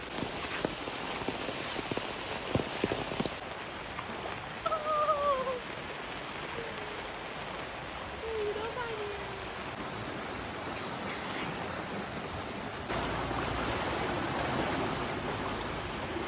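A small Konkan stream swollen after heavy monsoon rain rushes steadily in a constant wash of water, moderately loud and unbroken, with faint birdsong in the background and no talk.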